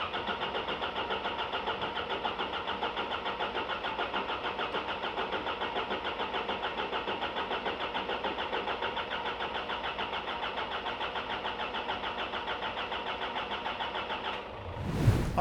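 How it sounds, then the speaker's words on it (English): A Nissan Patrol engine cranks on the starter after being reinstalled, a steady rapid mechanical churning that runs unbroken for about fourteen seconds before stopping abruptly with a clunk. "And with the new one in, we cranked some more."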